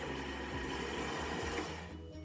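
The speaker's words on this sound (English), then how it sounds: "I'm going to pop it on my blender for 1 second and just mix it up really" A blender briefly whirs while mixing coconut milk yogurt with a splash of vanilla extract, giving a steady, close motor hum that lasts about two seconds with no talking.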